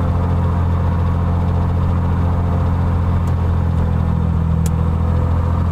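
Aircraft piston engine running at steady power during a magneto ignition check as the key switches from both to the left magneto, a loud, continuous, even droning roar with only faint shifts and no talking.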